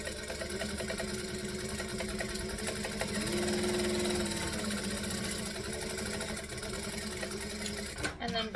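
A sewing machine stitches around the edge of a quilt piece, its fast motor whirring steadily and continuously at close range, with a brief clunk near the end.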